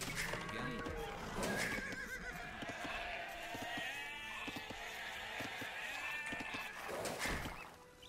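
Sheep bleat repeatedly in a strategy video game, several overlapping animal calls mixed with horse neighs and clip-clopping hooves over a quiet game backdrop.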